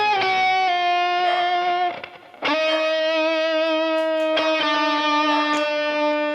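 A seven-string electric guitar rings out sustained notes and chords with heavy delay and reverb, tails echoing between strums, loud and close.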